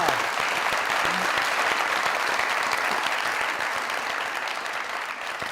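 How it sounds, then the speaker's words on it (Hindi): A studio audience applauds an invited guest, a Pakistani drama actor, with steady, dense clapping that stays loud for about five seconds and fades only slightly at the end. "उसके लिए तालियां।"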